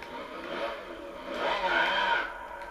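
A Ferrari in Gran Turismo accelerates hard, its engine note rising and swelling to a loud peak midway before easing off, with a scraping tire edge and no voices.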